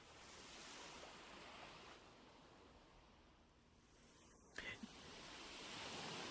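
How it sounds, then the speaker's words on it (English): Ocean waves wash steadily in a VRChat world, a soft, continuous surf hiss that stays fairly faint throughout, with one brief sharp click near the end. "I hear the waves."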